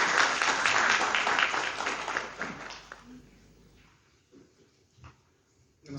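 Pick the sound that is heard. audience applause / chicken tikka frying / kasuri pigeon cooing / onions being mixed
audience applause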